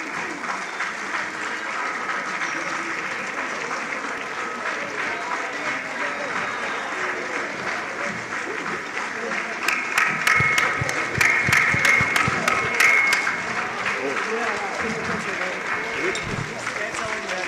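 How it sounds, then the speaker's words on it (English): Delegates at a national trade union gender conference clap steadily for a long stretch. A voice speaks over the applause, and the clapping swells louder midway before settling back. "we want to ask the conference to join me in clapping hands as you depart your affiliates"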